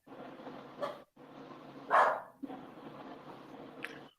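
A dog barks at intervals over a steady background hiss. There are three distinct barks, the middle one loudest, with no voices.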